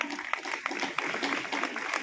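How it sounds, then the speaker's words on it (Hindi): Steady, dense applause from a gathered audience as a person is called up onto the stage, continuous clapping throughout without pause. "रमेश भाई, आप भी स्टेज पे आए, आपके लिए जोरदार तालियां।"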